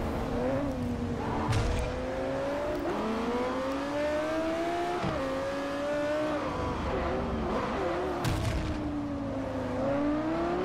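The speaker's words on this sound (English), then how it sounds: "Oh my gosh, the Ferrari binned it" A Ferrari races in Forza Motorsport 4, its engine droning and shifting pitch steadily with occasional squeals and thumps, loud and continuous, with no voices.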